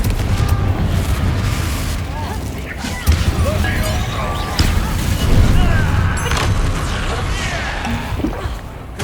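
Explosive blasts from the Confringo fire spell in Hogwarts Legacy, with dense booming bursts and crashing impacts layered over continuous spell effects and a busy game soundtrack, loud throughout.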